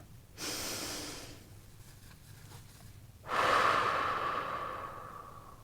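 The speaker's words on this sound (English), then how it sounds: "join me in taking a breath" Two slow, deep breaths taken during a guided meditation, a long airy inhale followed after a pause by a fuller, louder exhale, close and unhurried.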